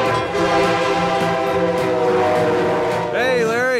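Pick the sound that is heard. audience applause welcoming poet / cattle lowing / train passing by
train passing by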